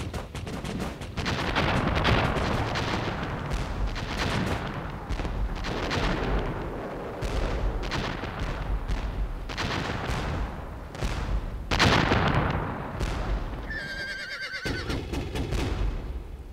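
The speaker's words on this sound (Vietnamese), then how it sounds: "Bắn hết toàn bộ pháo đi." Artillery cannons fire repeatedly in a battle scene from an anti-Japanese war drama series, with heavy booming blasts and crackling gunfire layered into a loud, continuous barrage; a brief high whinny-like tone near the end.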